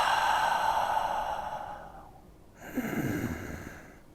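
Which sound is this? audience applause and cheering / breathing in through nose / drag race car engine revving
breathing in through nose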